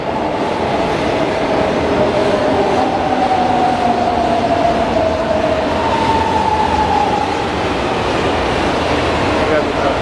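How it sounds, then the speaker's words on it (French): São Paulo metro station, with a train rumbling loudly and steadily, and a long whining tone sliding in pitch as it moves along the rails. People talk in the background. "Donc là on va rentrer dans le métro"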